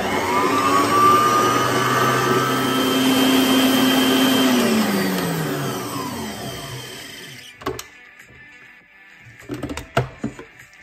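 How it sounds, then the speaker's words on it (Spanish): An electric mixer with a balloon whisk whirs loudly for several seconds, its pitch sliding down as it slows and stops, followed by a few soft clinks. "Y voy a utilizar el globo batidor."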